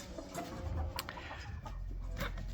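Hens in a backyard coop cluck and murmur softly, with a few brief sharper calls over a steady low background, no talking.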